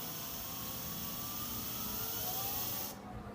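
An electric scooter motor on a 73A controller spins backwards with a steady, even whine and broadband rush, holding level for a few seconds before cutting out abruptly near the end.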